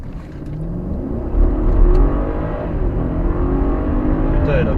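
A BMW F10 550i V8 biturbo in Sport Plus mode on a closed road accelerates hard with its wheels spinning, giving a loud, rising engine roar that swells and holds close by.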